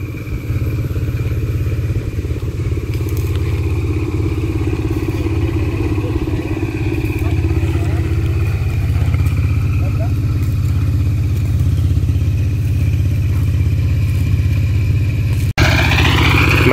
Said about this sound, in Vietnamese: Máy nổ để phát điện và dùng để hàn các bạn ạ.